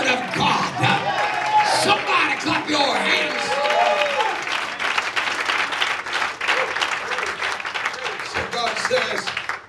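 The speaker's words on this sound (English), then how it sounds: "Somebody clap your hands." A church congregation claps hands during an evangelist's sermon, steady crowd applause with voices shouting over it and a preacher speaking through the noise.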